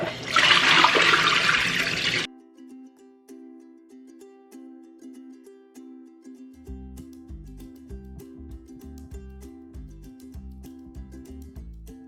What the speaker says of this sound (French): Il faut toujours laver le riz.